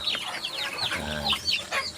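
A crowd of two-month-old ducklings and native chicken chicks peeping and chirping nearby, with a busy overlap of high calls and a few lower clucks.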